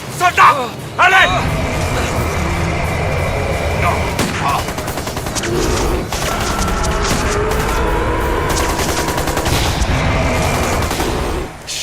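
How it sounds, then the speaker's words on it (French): Small-calibre gunfire in an action film battle scene, loud and sustained with rapid cracks and volleys over a dense, rumbling soundtrack, while voices speak and shout over it. "Des tirs de petit calibre."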